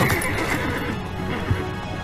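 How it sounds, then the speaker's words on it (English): A horse neighs as it dies in the video game Assassin's Creed Brotherhood, a loud whinny mixed with hoof clatter over a dense bed of game sound effects. "Unfortunately, our horse dies."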